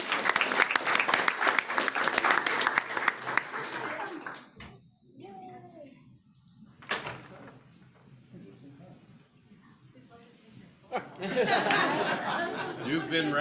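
Applause from the audience at a board of trustees public meeting, honoring award finalists: a burst of clapping for about four seconds, a quieter stretch with faint voices, then clapping rising again near the end.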